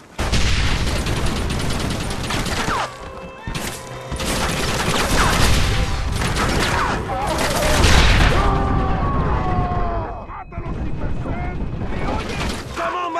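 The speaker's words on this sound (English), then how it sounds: "Use the cannon!" Cannon blasts and rapid gunfire ring out in Red Dead Redemption, a loud, dense barrage of booms and shots with brief lulls, while voices shout over the battle.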